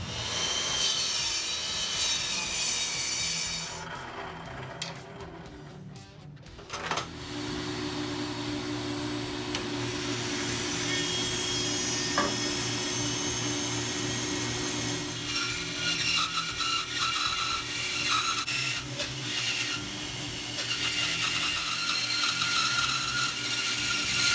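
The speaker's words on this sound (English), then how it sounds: "I got the table saw all set up, and I'm gonna go ahead and turn dust collection on and make this cut." A table saw runs loudly with dust collection on, cutting wood for a homemade electric guitar body, a steady mechanical whine and rushing hum that shifts in tone partway through the long cut.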